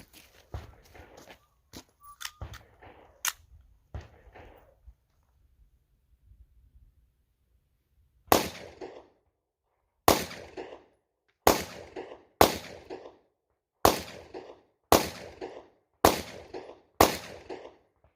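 Handgun shots using Blazer Brass 124-grain ammunition fire at an outdoor range, first a few scattered sharp cracks amid clatter, then after a quiet gap eight loud evenly spaced reports in a steady string.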